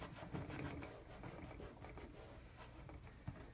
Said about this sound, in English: Rub that really good.